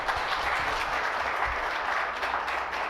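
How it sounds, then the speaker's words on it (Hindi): An audience at an oral health summit gives a round of applause, an even, continuous clatter of many hands at moderate volume, with no talking over it. "एक बार जोरदार तालियां हो जाए"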